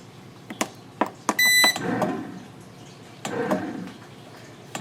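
A breadmaker loaded with flax and sunflower seed bread dough gives a short electronic beep, then its motor begins mixing with a low whir in brief bursts, close by among small clicks and handling sounds.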